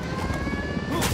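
Helicopter from the Ghost Recon Wildlands video game, a steady loud rotor and engine drone running the whole time with a brief louder swell near the end.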